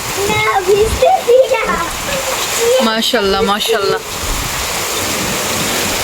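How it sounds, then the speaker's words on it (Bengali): Steady heavy rain noise fills the background throughout in Saudi Arabia while people talk over it, with a voice repeating a short exclamation. "অনেক বৃষ্টি হইতেছে অনেক অনেক"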